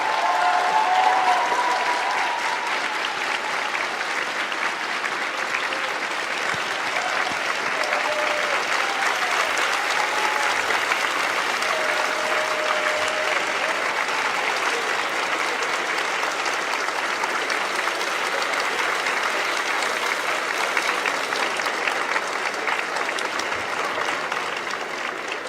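Standing ovation from graduates at the 2018 Harvey Mudd College commencement, a dense, sustained wash of crowd clapping that holds steady and loud for the whole stretch, with faint cheers mixed in.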